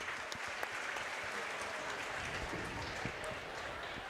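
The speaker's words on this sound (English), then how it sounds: "we will applaud as well" A gymnasium crowd at a district tournament championship gives a standing ovation, steady dense applause continuing evenly through the whole stretch.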